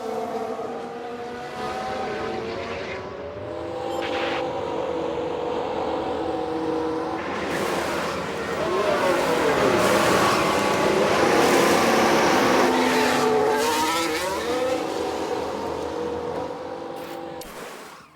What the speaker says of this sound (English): We've just had a car run wide.